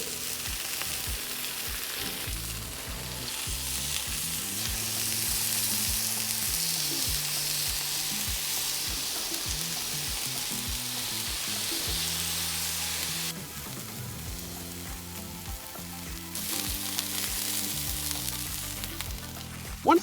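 Flank steak pinwheels with chimichurri sear over a charcoal grill, a loud, continuous crackling sizzle that swells and dips, with low tonal hum underneath and a sharp knock at the very end; no one speaks.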